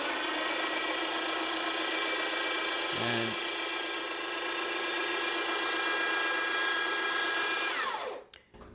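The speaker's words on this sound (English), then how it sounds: "So let's keep the grinder running." A Breville Barista Pro espresso machine's built-in burr grinder runs at a fine setting, a loud steady whirring grind close by that carries on for about eight seconds before winding down abruptly.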